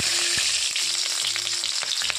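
Onions hit hot oil spiced with cumin and turmeric, frying with a bright, dense crackle and scattered pops and clicks of the utensil, close and steady, with no speech.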